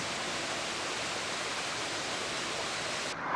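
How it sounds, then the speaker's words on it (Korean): Mountain valley stream water rushing steadily near Baegunbong in Yangpyeong, a dense continuous broadband wash that stays loud and even throughout, with no voices. "아직 개울 계곡물이 참 좋습니다."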